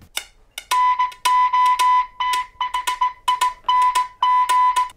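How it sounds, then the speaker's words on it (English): The Nothing Launcher phone alarm plays a loud, stuttering electronic pattern of clipped bursts over a steady tone, repeating rapidly and close. "So there's a special Nothing alarm."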